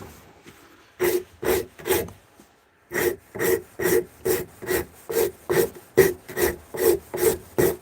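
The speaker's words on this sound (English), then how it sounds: "Might have to get some sandpaper on this bad boy, Mark." Sandpaper rubbing back and forth on an object: three quick scratchy strokes, a short pause, then a steady run of about a dozen evenly spaced rasping strokes, close and clear.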